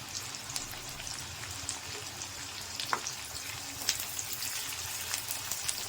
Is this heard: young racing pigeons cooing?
no